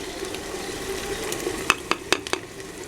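Crushed red chili and turmeric powder frying in a pot of oil for aloo chicken shorba, with a soft continuous sizzle and a few sharp clinks of a spoon stirring near the end.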